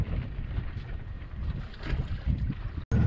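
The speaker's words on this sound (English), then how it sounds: "Alright, we got the engine going." A sailboat's engine running on the water near Golfito at sunset, a steady low rumble mixed with wind buffeting the microphone, close and continuous with no talking.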